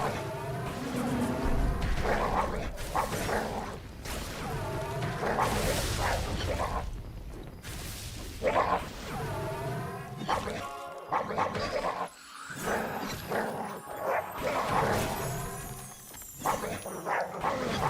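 Dogs barking in the fantasy MMO Monsters and Memories during combat, with repeated bark bursts mixed among swooshing weapon swings and hit effects, fairly loud and busy throughout.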